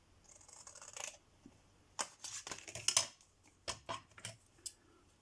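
Scissors cutting recycled paper or card for a handmade album make several short crisp snips in separate bursts, close and fairly quiet against a silent room with no speech.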